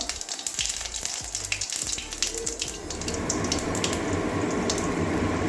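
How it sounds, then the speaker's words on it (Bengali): Whole cumin seeds drop into hot oil for tempering, with sharp crackling pops at first, then a loud, dense, steady sizzle that swells and holds to the end. No one speaks. "ফোড়নে এবারে গোটা জিরে দিয়ে দিচ্ছি একটু হাফ চামচের মতো"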